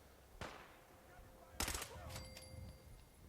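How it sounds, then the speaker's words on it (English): Gunfire in the video game Fallout 4: a single sharp shot, then a short rattling burst and a few scattered pops, all faint and distant over a quiet background. "you can stop shooting at me"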